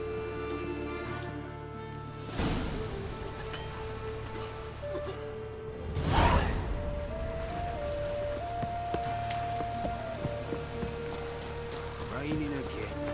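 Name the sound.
rain in a video game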